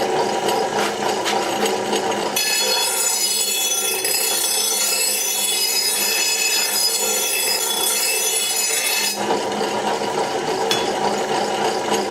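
A grinder smooths the rough back side of a lawn mower blade, giving a loud continuous metallic whine with scraping, harsher at the start and end, close and without pauses.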